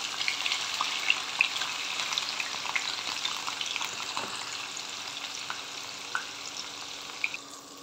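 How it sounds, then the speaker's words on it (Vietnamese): Steady oil sizzle of tofu frying in a pan over low heat, with occasional small pops and a brief stirring clink, no talking. "Chiên cái đậu hũ ha."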